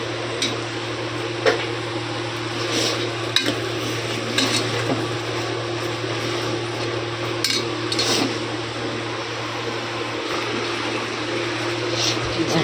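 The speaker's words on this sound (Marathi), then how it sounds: "इथं टाकते चिकनमध्ये बटाटा" Potato pieces go into a pot of chicken curry and are stirred in, giving scattered clanks and scrapes of a spoon against the pot over a steady low kitchen hum, with no talking.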